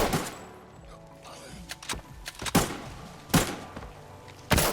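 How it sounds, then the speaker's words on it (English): Sniper rifle shots in the mobile FPS Arena Breakout, a few sharp, loud cracks spaced roughly a second apart over quieter in-game ambience, each a sudden isolated burst. "the last challenge is to kill 3 players with sniper rifle"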